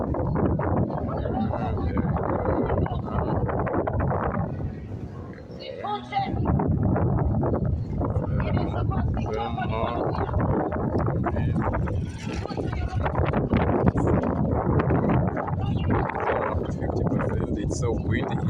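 Strong wind on a hilltop above the Nguuni community in Vikwatani buffets the microphone in heavy, continuous low rumbling gusts, with a person talking through much of it.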